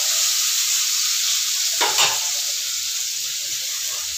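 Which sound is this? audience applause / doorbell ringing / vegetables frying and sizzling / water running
vegetables frying and sizzling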